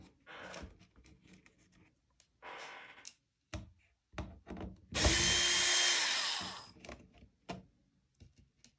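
A power drill whirs in one loud, sustained burst while taking screws out of a Walmart wall clock, set among short taps, clicks and handling noises on a work surface.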